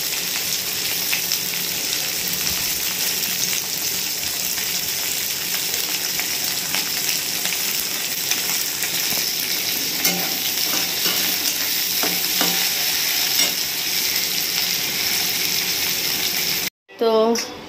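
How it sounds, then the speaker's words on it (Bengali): Shrimp sizzle steadily in a hot pan while being lightly stirred for a mixed vegetable dish, a close, continuous frying hiss with scraping stirs that cuts off abruptly at the end. "এবার চিংড়ি মাছটা একটু দিয়ে দেবো এর মধ্যে, হালকা একটু নেড়ে নেবো।"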